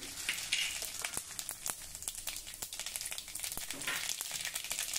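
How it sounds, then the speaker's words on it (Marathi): Fenugreek seeds, cumin and mustard seeds sizzle and crackle in hot oil, a dense steady frying hiss dotted with sharp pops and spits, close and continuous with no talking. "तेल गरम झालं की त्यामध्ये थोडे मेथी दाणे घालूया, चिमूटभर जिरं आणि मोहरी"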